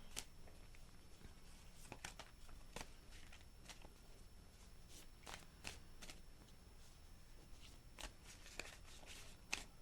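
Tarot cards being shuffled by hand, a continuous soft papery riffling broken by sharp clicking snaps of cards, close up and fairly quiet, with no talking.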